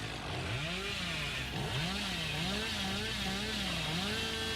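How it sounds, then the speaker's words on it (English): A chainsaw revs in Dead by Daylight, heard as a steady, loud engine drone whose pitch swoops up and down in repeated waves, with a dense game ambience underneath and no talking. "just holding the chainsaw on this mid-map, threatening these generators"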